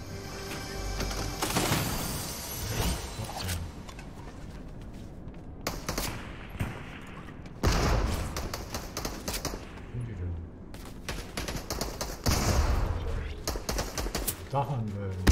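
Gunfire in the Fortnite video game: bursts of rapid shots and single loud cracks come in several clusters across the stretch, close and harsh, separated by quieter gaps of game ambience.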